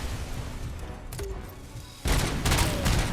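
Grenade blasts and gunfire in the Robocop: Rogue City video game, a softer muffled burst early, then a loud sustained barrage of booming explosions and shots from about the two-second mark to the end.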